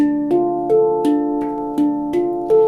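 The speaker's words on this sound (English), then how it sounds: "the part that's coming next is a little bit of percussion sound" Sustained ringing metallic tones as a handpan is tapped percussively in a steady rhythm, each hit blooming with bright harmonic overtones, close and clear with no voices.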